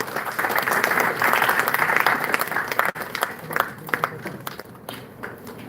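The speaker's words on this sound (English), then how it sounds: "So give all of them a big hand" An audience at an institutional conference claps loudly and densely, then the clapping thins into scattered individual claps and dies away over the last few seconds.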